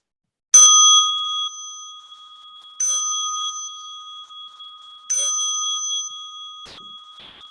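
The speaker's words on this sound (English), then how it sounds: "As you listen to the bell" A meditation bell struck three times, each clear ringing tone sustained and slowly decaying before the next strike, followed by a soft knock at the end.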